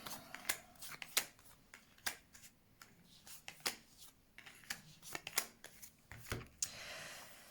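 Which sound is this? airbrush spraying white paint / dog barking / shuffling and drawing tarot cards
shuffling and drawing tarot cards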